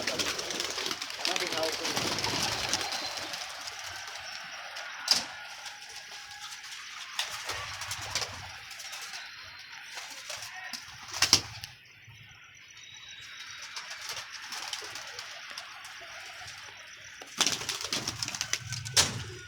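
Pigeons coo softly amid bursts of wing flapping and scattered sharp clatters, with a person talking intermittently over the birds.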